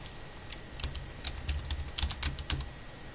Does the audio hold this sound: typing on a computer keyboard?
yes